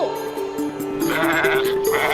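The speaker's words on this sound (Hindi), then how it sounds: "रोको इन बकरियों को।" Goats bleating close by in a busy scene, several overlapping wavering cries in quick succession over a faint musical background.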